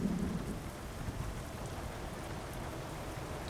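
A thunderstorm in the Euro Truck Simulator 2 driving game brings steady, even rainfall throughout, with a low rumble of thunder at the very start fading beneath the hiss of rain.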